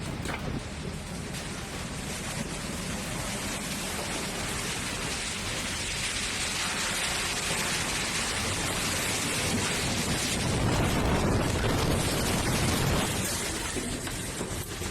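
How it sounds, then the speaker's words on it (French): Heavy monsoon storm rain pours steadily across a ranch in central Arizona, a dense unbroken roar with low rumbles of thunder. It swells louder near the end, and no voices are heard. "Une puissante rafale de vent provenant d'une tempête de mousson a balayé le Kaibeh Ranch"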